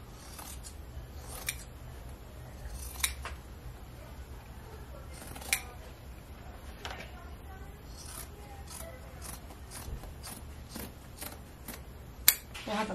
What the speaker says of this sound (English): now I'm going to cut away a little bit of this